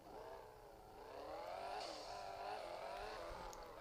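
A Bugatti car engine in a video game hums and revs steadily, its pitch rising and falling smoothly as it drives, continuous and fairly quiet with no talking.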